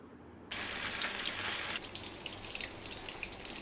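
Fish pieces soaked for an hour frying in hot oil on a low flame, a dense, steady hiss and crackle that starts abruptly and continues evenly throughout.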